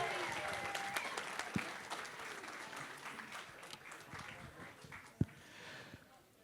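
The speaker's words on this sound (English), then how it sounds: "Can we have one more round of applause for Jim and Loretta?" Wedding guests applaud during the reception speeches, a steady round of clapping from a room of people that holds at an even level, with a couple of sharp thumps near the mic and faint voices underneath.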